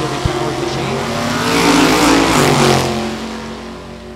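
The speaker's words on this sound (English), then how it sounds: "The 23 Ford. Little fiberglass altered. Another big block Chevy powered machine." A 1923 Ford fiberglass altered drag car with a big block Chevy engine makes a loud, harsh engine roar. It swells to a peak as the car passes close, then fades as it pulls away.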